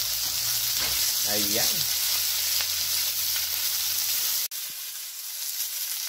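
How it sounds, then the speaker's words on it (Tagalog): Lechon sisig sizzles and fries in a hot skillet, a steady crackling hiss that runs throughout, with a brief spoken word near the start. "habang ginigisa natin dito, in-start na natin painit yung ating skillet dito"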